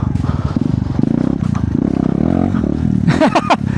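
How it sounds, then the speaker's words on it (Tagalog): A motorcycle on an obstacle course rides over a fallen log, its engine roaring briefly with clattering and scraping, and a voice speaking over the start. "Ngayon naman dadaanan natin itong nakatumbang troso. At for me, kayang-kaya ng motor to."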